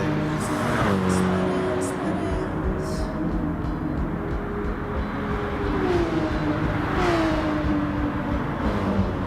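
Porsche 911 race cars running side by side in the Gran Turismo racing game, steady engine drone with rising and falling revs at moderate loudness, with a faint voice underneath.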